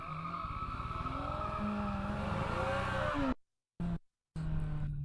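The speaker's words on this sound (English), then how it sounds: "I was burning rubber even with the traction control on. I mean, doing donuts." A 2021 Kawasaki Z900 motorcycle spins donuts, its tires squealing in long wavering screeches over a steady, loud engine drone. The sound cuts out abruptly twice near the end, then resumes.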